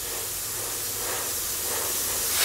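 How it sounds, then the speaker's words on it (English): Airbrush spraying yellow paint over a stencil on a goalie mask, a close, continuous soft hiss that holds steady and swells slightly at the end. "we're just going to kind of airbrush just inside your green areas"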